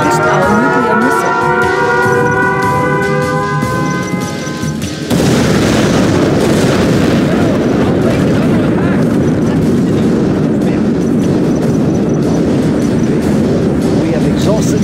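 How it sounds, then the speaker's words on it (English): In Command and Conquer Generals, a nuclear missile launches with wavering, siren-like rising tones for about five seconds, then a loud, sustained roaring rumble of the blast takes over and fills the rest of the clip. "We have launched our nuclear missile."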